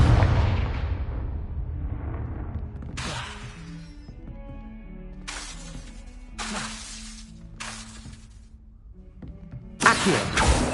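Confringo fire-blast spell explosions in the video game Hogwarts Legacy, several loud bursts going off one after another over a layered musical and ambient game background, with a sharp final blast near the end.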